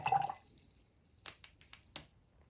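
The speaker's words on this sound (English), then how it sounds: "I'm going to rinse my brush." A paintbrush is rinsed in a water cup during an acrylic painting session, giving a brief splashy swish at the start followed by a few faint drips and small wet taps, near and quiet, with no talking.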